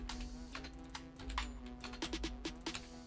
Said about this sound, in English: we'll type in Shakir